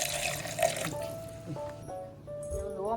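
Water pours and trickles from a tap into a container while preparing a traditional pregnancy home remedy with pepper, with gurgling and drips that fill and rise in pitch, fairly close.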